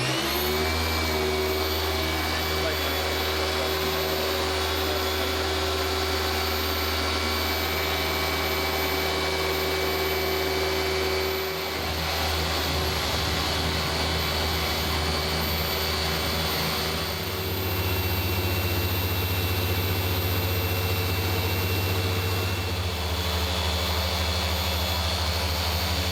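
A dual action polisher running on car paint, its steady motor whine and hum close and loud, shifting in pitch and load as it is pressed and moved across the panel, with no voices.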